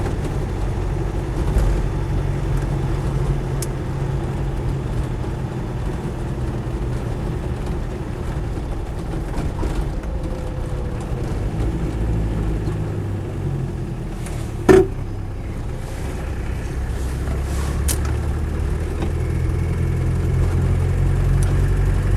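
Land Rover 110 2.5 TD diesel CSW on the move, a steady low engine drone and road rumble from inside the cab that runs evenly throughout, with one brief knock midway and no talk.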